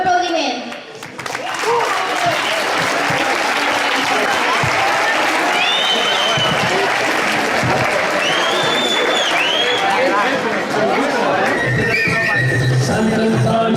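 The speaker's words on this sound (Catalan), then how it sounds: "Un aplaudiment." A crowd at a school Sant Antoni celebration applauds continuously, a loud sustained wash of clapping with a few cheers and whistles rising through it, filling the whole stretch.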